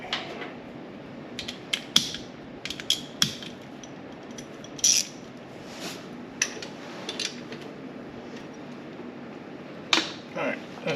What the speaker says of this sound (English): I'll get a ratchet in here.